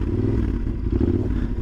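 Yamaha Super Ténéré 1200 motorcycle ridden very slowly, its engine a loud, low, steady rumbling idle with a slight uneven pulse, close up and continuous.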